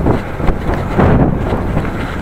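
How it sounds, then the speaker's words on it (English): Steady wind buffets a microphone outdoors on a cold day, a low rumbling roar with gusts that swell and ease over a couple of seconds. "Windy and cold,"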